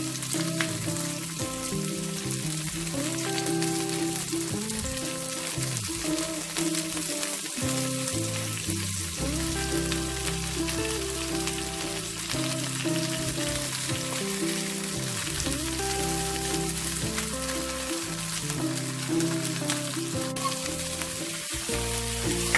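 Shrimp pan-fry for a tomato sauce dish, a loud continuous sizzle and crackle running throughout with no talking.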